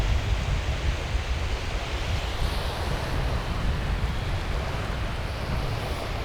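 Strong wind and constant surf roar on a sandy beach during a pre-dawn surfcasting session, a dense, unbroken rush of noise with no voices.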